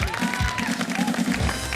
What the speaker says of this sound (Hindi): जोरदार तालियां, तालियां, तालियां, तालियां